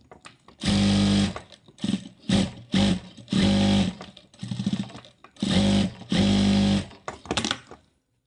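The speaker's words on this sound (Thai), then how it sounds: "ตอนนี้จะมาเย็บให้ดู" A sewing machine stitches circular fabric in bursts of loud, close whirring that start and stop repeatedly with short pauses between runs, and no one speaks.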